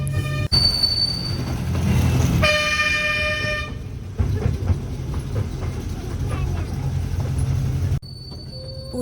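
A train pulls into a railway station in South India, with rumbling wagons, squealing wheels, bright horn toots and background voices around the platform.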